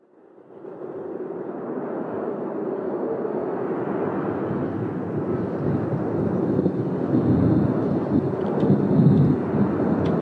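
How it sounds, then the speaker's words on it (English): Wind and thunder sound effects layered together into one continuous roar that swells gradually, with deep rumbling thunder building under sustained gusting wind, loud and unbroken with no talking. "I've got wind and thunder, and I'm combining the two things here"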